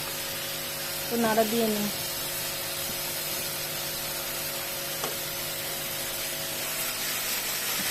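Rice boiling over in a cooking pot gives a steady hiss of steam and spray, with someone speaking briefly over it and faint clatter.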